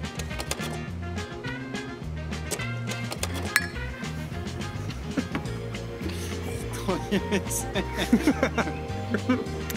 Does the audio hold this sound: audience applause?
no